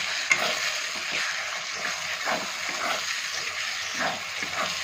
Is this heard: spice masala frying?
yes